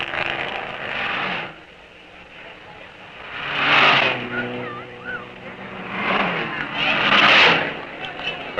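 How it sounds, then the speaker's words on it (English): Stock cars from the 1954 Carrera Panamericana road race in Mexico roar across the finish line, with engine swells rising and fading in passes and a lower rumble between them, heard under a talking voice. "More stock cars roar across the line."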